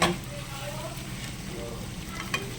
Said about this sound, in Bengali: এখন জাস্ট গরম জলটা এর মধ্যে দিয়ে দেব